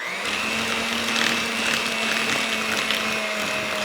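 Electric mixer whirring steadily through keto avocado fudge cookie batter for a final mix, a close, continuous motor drone with a bright whine and slight churning variations.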